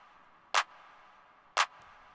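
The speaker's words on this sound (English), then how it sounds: "simple clap rhythm that sounds like this" Two sharp programmed claps from an FL Studio drum pattern, about one second apart, each a bright isolated hit over a faint steady backing hum, for a pop instrumental remake.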